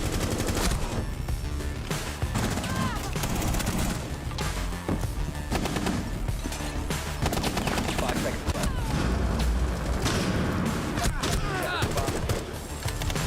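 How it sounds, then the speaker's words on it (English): Rapid bursts of gunfire and sharp impacts crackle through a Rainbow Six match as a frag grenade is thrown, loud and dense with repeated transients and a voice speaking over parts of the action. "Throwing frag grenade."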